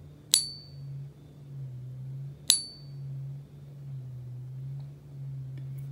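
Two sharp metallic pings from a tin fake Morgan dollar coin, about two seconds apart, each dying away quickly, over a low steady hum.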